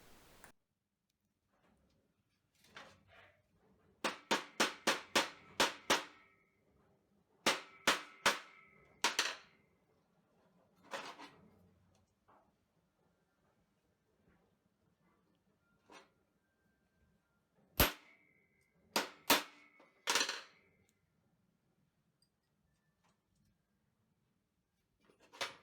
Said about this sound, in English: I'll swage that brass tube onto the cable just with a hammer and chisel.